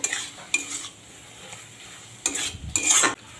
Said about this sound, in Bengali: একটু নেড়ে চেড়ে মিশিয়ে দিলাম